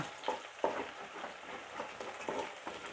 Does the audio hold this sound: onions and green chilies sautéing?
yes